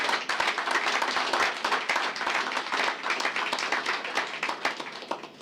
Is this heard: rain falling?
no